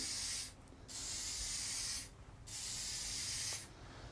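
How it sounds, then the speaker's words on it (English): Three long bursts of aerosol mold release spray hissing close by in a paint booth, each lasting over a second with short pauses between them. "we're in the paint booth / horse trailer to spray our mold release"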